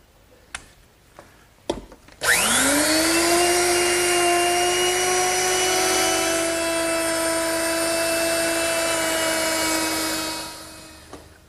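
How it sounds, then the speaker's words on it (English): Handheld router with a 1/2 inch round-over bit shaping the edge of a wooden 2x4 armrest for a garden bench: a few clicks, then the motor whines up to a loud, steady high drone for about eight seconds before spinning down. "to round that over, I'll simply use my router, which is set up with a 1/2 inch rounding over bit"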